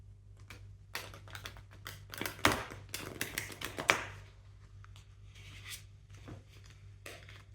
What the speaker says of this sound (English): I'm just going to shuffle like this in order to get some reversed cards as well.